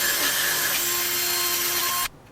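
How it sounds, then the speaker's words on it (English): Power drill boring a hole through the plastic shell of an Xbox 360 controller: a steady, loud, close whirring whine that holds for about two seconds, then stops abruptly. "that is one hole drilled"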